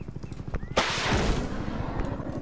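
A bazooka fires in a shooting video game, one sudden loud blast followed by a long rushing roar, over a rapid rhythmic thumping beforehand.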